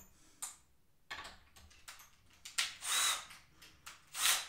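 Screws being removed from the chassis of a Bang & Olufsen BeoLab 7.4 active loudspeaker, heard as close, intermittent bursts of a small power driver with clicks and scraping between them.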